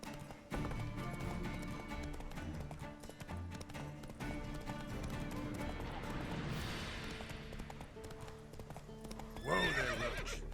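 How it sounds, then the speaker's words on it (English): Roach, the horse in The Witcher 3: Wild Hunt, gallops with steady rhythmic clip-clop hoofbeats and then gives a loud neigh near the end, set over game music and ambience. "Whoa there, Roach"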